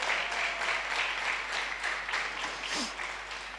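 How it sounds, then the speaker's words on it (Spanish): Audience applause for a woman from Tierra del Fuego in a live show setting, a steady, moderately loud patter of many hands lasting several seconds with a faint voice briefly rising above it. "un aplauso para ella que está hoy con nosotros"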